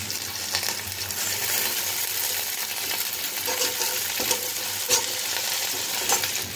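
Chopped onion, garlic and curry leaves fry in a pan for a chickpea, pea and potato dal. A steady, close sizzle runs throughout, broken by scraping and clinking as the food is stirred, with no voices.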